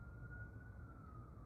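An emergency vehicle siren sounds on the street outside, one faint, steady, slightly falling tone far off beneath a low indoor rumble.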